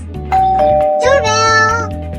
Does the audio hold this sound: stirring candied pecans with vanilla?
no